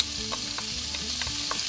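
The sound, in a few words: bacon and whole small onions frying in olive oil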